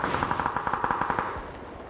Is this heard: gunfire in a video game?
yes